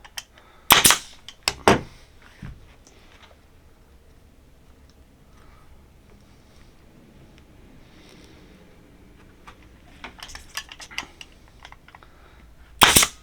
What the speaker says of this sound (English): So I'm going to put one staple there.